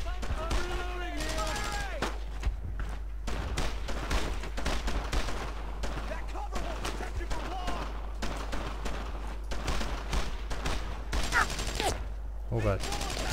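Gunfire in the World War II shooter Brothers in Arms: Road to Hill 30: dense, continuous rifle and machine-gun bursts crackle throughout, with raised voices shouting in places over the shooting.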